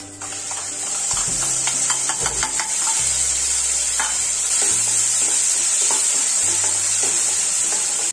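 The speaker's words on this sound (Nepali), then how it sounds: "तेजपात पनि फ्राई गर्दैछु मसला पनि पाकिसक्यो" Turmeric, cumin, coriander powder, bay leaves and tomato paste fry in a pan for a Nepali veg thali, giving a steady loud sizzle and hiss throughout, with occasional scrapes and clinks of stirring.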